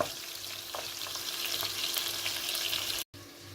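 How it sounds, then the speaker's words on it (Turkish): Bone-in meat fries in hot oil in a pan, giving a dense, continuous close sizzle that cuts off abruptly for a moment near the end, with no voices. "kemikli eti ilave ettim. Ve kavuruyorum."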